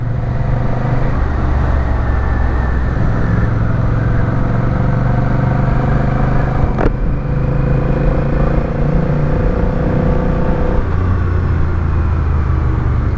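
Honda Rebel 1100 motorcycle engine under way on the road, a loud, steady mid-pitched drone with shifting tones as the rider changes speed, heard close over wind noise without speech.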